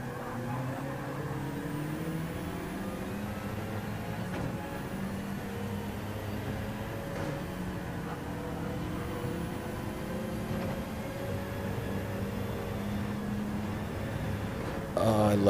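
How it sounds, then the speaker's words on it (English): Race car engines in a BMW Cup racing video game hum steadily and overlap, droning at a moderate, distant-sounding level throughout. "I love the sound of race cars."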